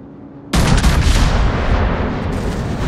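Warship guns fire in World of Warships with a sudden heavy, booming salvo that breaks out of near quiet and leaves a long, rumbling roar trailing off, with a second muffled thump near the end.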